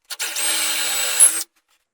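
A power drill with a doweling jig bores a dowel hole in wood, a single short burst of high whirring and bit chatter lasting just over a second before stopping.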